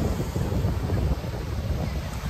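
Sea waves washing along a shoreline at Ras Al Khaimah, a steady broadband surge mixed with wind buffeting the microphone, continuous and fairly loud with no voices.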